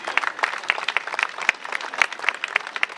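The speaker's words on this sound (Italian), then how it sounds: "quindi un grande applauso." Crowd applause at an outdoor regional rally of the A.N. bersaglieri veterans in Veneto, a dense steady patter of many hands clapping at close range for about three seconds with no voices over it.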